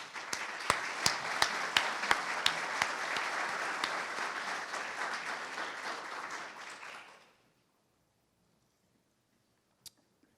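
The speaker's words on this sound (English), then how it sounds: "How about a round of applause?" An audience applauds at an opening-remarks event, steady dense clapping with a few sharp louder claps up front, sustained for about seven seconds before stopping abruptly into silence, one stray clap afterward.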